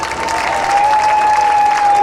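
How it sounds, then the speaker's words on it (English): A rodeo crowd claps steadily, a sustained wash of applause with a faint thin whistling tone running through it. "How about a round of applause for them?"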